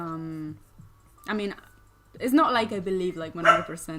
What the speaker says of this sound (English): that was my dog. Just being loud